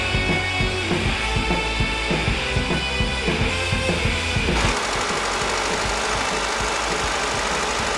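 A loud 2002 Saturn SL1 engine, freshly rebuilt, idles with a rhythmic, knocking chug for a few seconds, then settles into a smoother, steadier running rumble.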